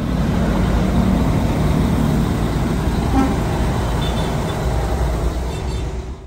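A stopped bus idling at night, a steady loud low engine rumble with a constant broadband drone, close up and unbroken, fading slightly at the end.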